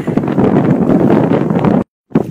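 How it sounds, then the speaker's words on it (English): Strong wind roars and buffets the microphone in a dense, rough rush, cutting out briefly near the end before resuming. "It's super, super windy today."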